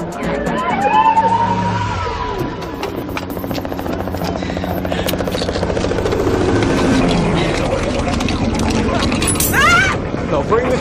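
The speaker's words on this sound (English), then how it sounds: "Now bring the chopper in from the back of this guy" A helicopter thunders low overhead in an action movie scene, its steady rotor chop loud and sustained, while sirens wail and voices talk over the noise.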